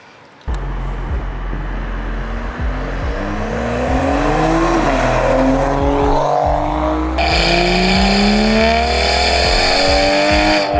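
A stage 2 tuned BMW 335i with N55 engine and DCT gearbox roars close up as it accelerates hard, pitch climbing through gear changes, with heavy low rumble and a steady loud drone from inside the cabin.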